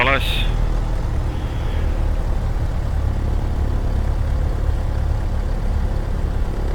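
A steady low engine drone runs throughout from a Cessna 152 in Microsoft Flight Simulator, idling, with a brief higher whine at the start.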